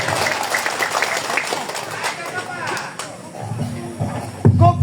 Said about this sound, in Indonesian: Untuk itu berikan aplaus yang tulus